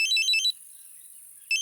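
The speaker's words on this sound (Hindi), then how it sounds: "एसपी साहब को फोन आगो" A phone ringtone sounds as a bright electronic trill for about half a second, falls silent for a second, then starts trilling again.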